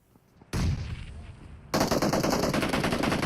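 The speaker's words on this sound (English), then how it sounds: "A lot of nades coming in from this squad." Sustained rapid gunfire in a video game squad fight during competitive scrims, loud and continuous, jumping to an even heavier burst of automatic fire partway through.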